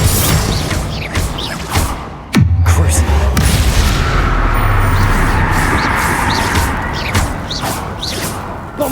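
Spell explosions in Hogwarts Legacy, Bombarda and Confringo blasts, a loud sharp crack followed by a booming, rumbling blast that stays heavy and sustained, with more impacts and a voice breaking in over the combat.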